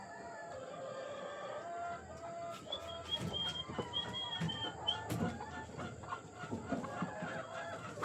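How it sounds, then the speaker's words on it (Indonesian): A farm flock of chickens clucks and squawks while being fed bananas, with overlapping calls and a rooster-like crow, heard from a little distance against faint background noise and no talking. "ayo kita lihat ayam kita akan beri pisang ya, biar ayam-ayam kita tuh tumbuh lebih sehat"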